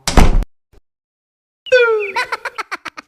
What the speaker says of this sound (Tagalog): Wow ha, sinara ang pinto.